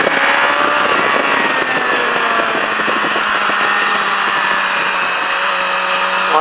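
A motorcycle accelerating on the La Ferté Gaucher race track, its engine a loud, steady, buzzing drone that rises in pitch toward the end.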